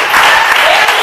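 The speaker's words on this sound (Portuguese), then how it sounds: "pode aplaudir, pode aplaudir, Senhor." A church congregation breaks into loud applause during a worship service, with a voice carrying over the brief, dense burst of clapping.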